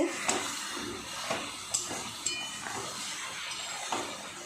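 Mutton sautéing in a pan makes a steady, broad hiss of sizzling fat. A few soft knocks of stirring come through, and there is no talking.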